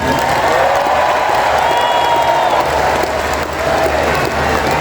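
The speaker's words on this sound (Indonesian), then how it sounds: "saya mengerti kenapa tepuk tangan untuk Menteri Keuangan yang paling keras" Loud, sustained audience applause fills a hall during a Teachers' Day address by the Indonesian president, swelling steadily with a brief dip near the end, mixed with some crowd murmur.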